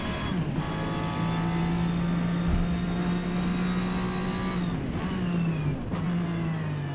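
Jaguar XJR-5 race car driven in the racing game Forza Motorsport, its engine droning loudly and steadily, pitch rising and falling through gear changes.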